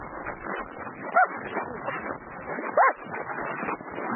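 Sled dogs before training bark and whimper together in a dense, continuous chorus, with a couple of sharper high yelps rising above the excited din.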